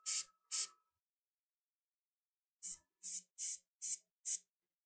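An airbrush sprays white paint onto eye sockets in short, crisp hissing bursts: two quick puffs, a pause, then five more evenly spaced sprays, close and otherwise silent.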